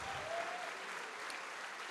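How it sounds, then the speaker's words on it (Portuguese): Church congregation applauding steadily, a dense wash of many hands clapping that carries through the whole stretch with a brief tone and faint voice near the start. "Mas eu quero que você dê mais uma salva de palmas para aquele que te formou."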